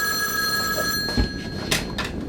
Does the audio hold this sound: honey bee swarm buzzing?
no